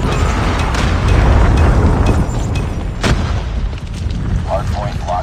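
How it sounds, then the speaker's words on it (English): A predator missile explodes with a heavy boom during a Call of Duty Mobile match on the Shipment map, amid rumbling gunfire and blasts. Voices talk over the noise. "Friendly predator missile inbound."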